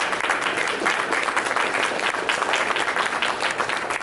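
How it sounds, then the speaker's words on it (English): A crowd applauds steadily for the presenting sponsors at the 2024 Thunder Over Louisville press conference, a loud, dense clapping that holds for about four seconds with no voices over it. "give them a round of applause"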